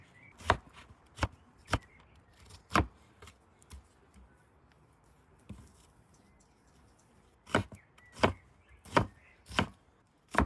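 A knife slices Dutch onions on a board for crisp fried beresta, giving sharp, distinct chopping strokes in an uneven rhythm: several early cuts, a pause with a couple of softer ones, then a fresh run of loud strokes.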